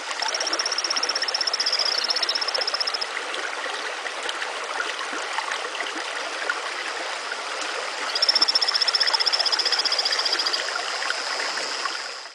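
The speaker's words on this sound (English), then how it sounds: "it's the sound of a torrent frog, in this case one from Brazil" Over a steady rush of flowing water, a Brazilian torrent frog gives a high, thin trilling call in two long bursts, separated by a stretch of stream noise alone.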